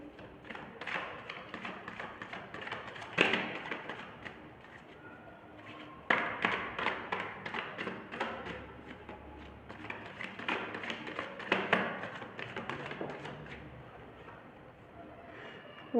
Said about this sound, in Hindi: फिर से शफल करेंगे।